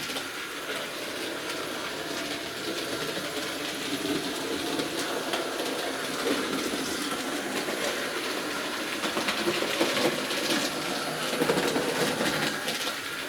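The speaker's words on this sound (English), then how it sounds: "This is a great locomotive, I love running this." A Hornby model locomotive with large wheels runs steadily round a track and tight bend, giving a continuous close, even rolling hiss and whir that grows slightly louder toward the end, with no speech.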